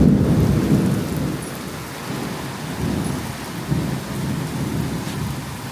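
Heavy rain and wind lash a tin-roofed house in a storm, a loud steady roar of downpour and gusts with deep rumbling underneath and no talk.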